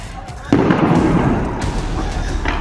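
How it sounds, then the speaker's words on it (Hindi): A sudden loud blast hits, followed by a rolling, crackling rumble that slowly fades, with a duller distant boom a second later, from an Iranian attack on a US base in Baghdad. "केवल और केवल धमाके की आवाज सुनाई दे रही है"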